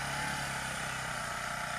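A grass trimmer engine drones steadily and loudly throughout, a continuous buzzing whine with no pauses.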